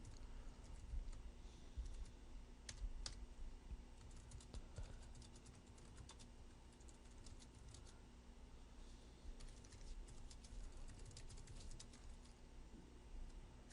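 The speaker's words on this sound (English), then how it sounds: "And while Zach is typing this out" Typing on a computer keyboard during a Unity game development session, a run of faint, soft key clicks with occasional sharper taps over a steady low room hum, close and quiet, with no talk.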